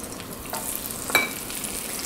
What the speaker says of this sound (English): And then drop them in the oil.